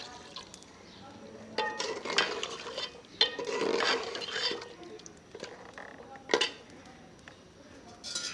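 Water poured into a pot of fried goat head, with splashing, sizzling and stirring clatter in short bursts over several seconds, fairly close and moderately loud.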